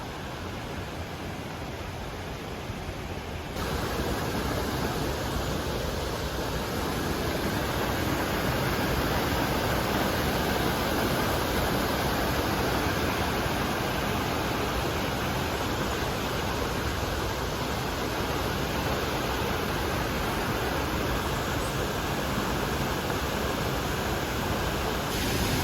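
La Paz Waterfall in Costa Rica, beside a roadside river, roaring as a broad, steady wash of falling water, loud and unbroken for the whole stretch, growing fuller after the first few seconds, with no voices.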